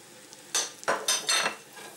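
Flour being stirred into melted butter in a pan, with several short scraping strokes of a utensil against the pan over a faint sizzle, close by and with no talking.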